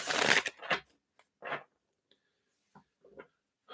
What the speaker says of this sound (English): Let me just shuffle these up here.